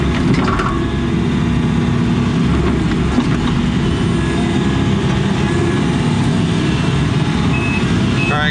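A truck at a building site being prepped for a pole barn, with a steady heavy engine rumble and a faint beeping reversing alarm repeating throughout.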